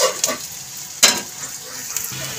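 Sliced onions fry in a hot pan while being stirred, giving a steady close sizzle with sharp scraping bursts from the stirring.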